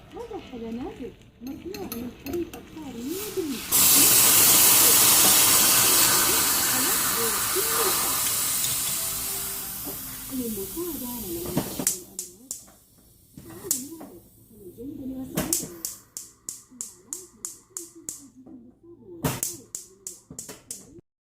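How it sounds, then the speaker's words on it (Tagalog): A loud rushing, bubbling hiss as Turkish coffee boils over in a pot, swelling suddenly then fading over several seconds, with a person talking before and after. "Yung pag sobrang kulo yung tubig, tapos sabay ilalagay yung kape, normal yun na umapaw."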